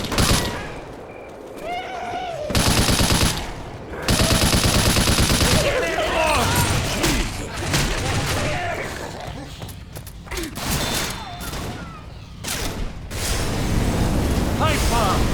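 Heavy continuous gunfire in the video game Left 4 Dead 2 on a server with infinite ammo, dense rapid bursts loud and close, with game voices shouting over the shooting.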